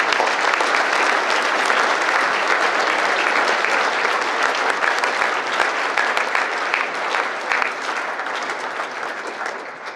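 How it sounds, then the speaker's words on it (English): An audience gives a sustained round of applause for inducted students at a 2024 National Honor Society induction ceremony, the dense clapping loud and continuous before easing off toward the end. "Let's give these knights a round of applause."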